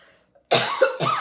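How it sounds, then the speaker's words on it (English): A person with a lingering cough lets out two sharp, close coughs in quick succession after a brief silence, loud and dry, without speech. "I have a little bit of a cough that has been bothering me these days"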